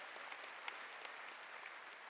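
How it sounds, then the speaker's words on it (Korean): A church congregation applauds during a Korean sermon, heard as a faint, distant, even wash of clapping with a few sharper claps standing out. "박수로 하나님께 영광을 돌려가지고"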